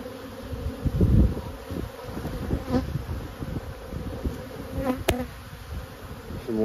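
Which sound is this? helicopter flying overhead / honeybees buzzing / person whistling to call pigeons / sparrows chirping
honeybees buzzing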